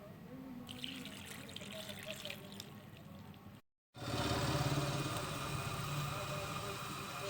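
Two cups of water poured into a pan of turnips and garlic on a home stove, giving a steady splashing rush that runs for several seconds, broken by a brief cut, then continues loud and close.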